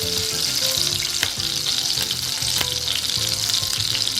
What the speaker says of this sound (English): So this butter, I'll put it on the simmer.